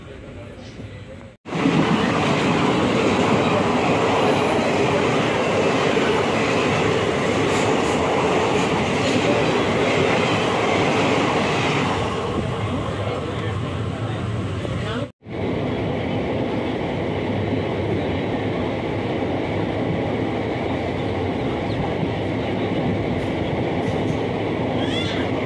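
A train pulls into Vizianagaram station with a loud, continuous rumble and rattling of wagons, a sharp break near the start and another midway, and faint voices in the background.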